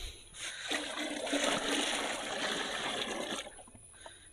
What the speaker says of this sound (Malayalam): ഇനി നമുക്ക് ഫുള്ളായിട്ട് വെള്ളം ആക്കണം.